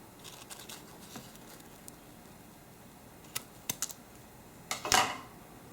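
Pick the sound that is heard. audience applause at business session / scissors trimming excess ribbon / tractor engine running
scissors trimming excess ribbon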